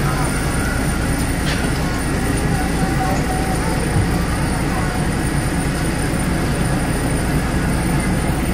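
A passenger train runs from Ban Laem to Mae Klong in Thailand, heard from inside as a loud, steady rumble of wheels and carriage noise that stays continuous throughout.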